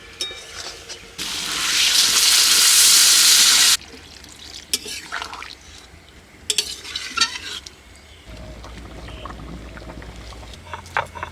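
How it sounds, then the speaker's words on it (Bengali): Water poured into a pan of frying jackfruit and potatoes for a village-style jackfruit and prawn curry: a loud, steady rushing hiss for a couple of seconds, then calmer clinks and stirring with a low simmering bubble. "কষানো হয়ে গেছে এবার দিয়ে দিচ্ছি জল"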